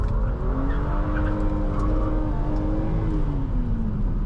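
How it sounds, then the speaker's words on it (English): A BMW Z4 M sliding with its rear end stepping out, tires squealing in a steady sustained howl over a loud, close engine drone, with no talking. "The rear end just comes out with not much throttle. It's really incredible how fun and easy it is to slide this car around."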